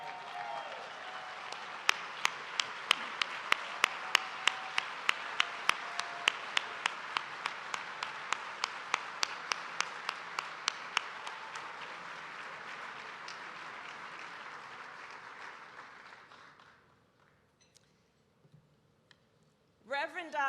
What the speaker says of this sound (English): Let us stand, please, and applaud Reverend Jackson and his family.